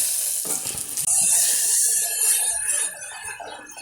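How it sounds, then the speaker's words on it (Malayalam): Tamarind water is poured into a hot pot of sambar and makes a loud, steady hissing sizzle, with a brief splash at the start and no talking. "ഇനി ഞാനിപ്പോൾ ഇതിലോട്ട് ഒഴിച്ചെടുക്കുന്നു പുളിവെള്ളം."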